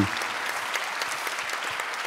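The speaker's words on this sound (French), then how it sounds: "Je crois qu'on peut applaudir les médiateurs institutionnels présents à la table ronde" Audience applauding the institutional mediators seated at a round table, a dense, steady wash of many hands clapping throughout at an even level, with no pauses.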